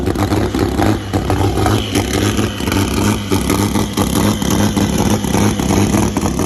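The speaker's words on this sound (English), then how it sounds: "one thing that I love about that car is just the noise that car makes" A car engine revs hard and repeatedly, surging and dropping in loud, rough bursts close by, with no voices.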